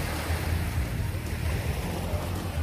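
Sea waves wash steadily onto a pebble beach beside a hotel pier, a continuous close surf rumble with wind noise buffeting the microphone throughout.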